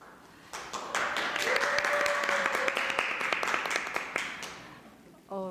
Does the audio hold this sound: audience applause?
yes